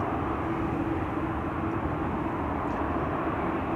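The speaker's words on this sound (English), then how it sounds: "Another one getting away from us is Singapore Airlines" Steady, broad roar of a Singapore Airlines jet taking off from runway 24 at Amsterdam Schiphol Airport, heard from a distance as an unbroken engine rumble with no voices.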